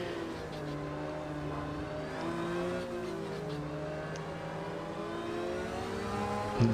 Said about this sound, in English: This Porsche really sounds incredible.